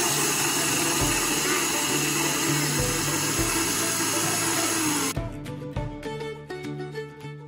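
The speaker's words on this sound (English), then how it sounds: "And then you turn your mixer on high." Electric hand mixer running on high, whipping raw milk cream into butter in a bowl, a steady loud whirring drone that stops partway, followed by softer clatter and a voice speaking.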